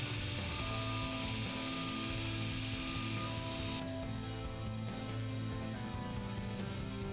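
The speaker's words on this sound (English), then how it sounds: "With the fresh belt on the belt sander," Belt sander with a fresh belt grinding a Viking broad seax blade: a steady, loud abrasive whine with a hissing high edge that drops away partway through, leaving the motor running alone.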